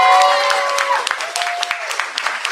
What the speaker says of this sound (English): round of applause for my wife